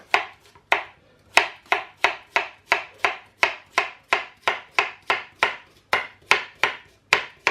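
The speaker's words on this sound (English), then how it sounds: "my knife chopping skills are terrible" Steady, rhythmic knife chops on a cutting board, about two per second, crisp and close, with no talking.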